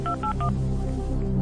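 Three short telephone dialing tones beep in quick succession to place a call during a quiz-show style chess segment, followed by a low steady hum.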